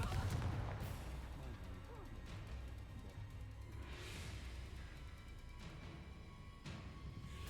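Confringo blasting spells go off in Hogwarts Legacy as repeated sharp bursts, a strong impact at the start and further cracks around four and seven seconds, fairly quiet overall with game ambience between.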